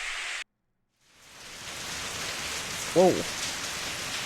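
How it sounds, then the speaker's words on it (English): Heavy rain falls in a Steins;Gate video game scene, swelling from a brief cut of silence into a dense, loud, hissing downpour, with a short exclaimed voice partway through. "In less than a minute, the rain turns into a full downpour."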